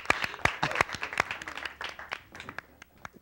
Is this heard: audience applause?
yes